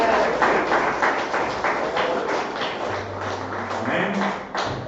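A church congregation claps in praise to Jesus Christ during a Portuguese-language service, a steady dense patter of hands filling the room, with a faint low hum running beneath.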